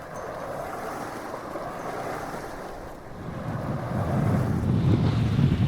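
Strong wind in the region of 15 to 16 knots roars across a sailing boat, with a continuous rushing buffet on the microphone and the wash of waves beneath, building louder toward the end.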